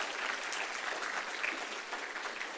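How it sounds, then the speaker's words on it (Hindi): Audience applause at a yoga gathering led by Swami Ramdev, a steady dense wash of many hands clapping throughout, moderately distant, with no talk over it. "इसके लिए भी जोरदार ताली बजा दो।"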